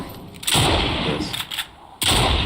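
A Fortnite gunshot lands a headshot: sharp loud blasts and a burst of rapid fire, with a short gap before another heavy shot near the end, and no speech.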